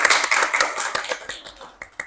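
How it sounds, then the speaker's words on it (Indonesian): Hand clapping from a small group at a school student council (OSIS) session: close, uneven claps, strong at first and thinning into scattered individual claps. "oke, tepuk tangan dulu"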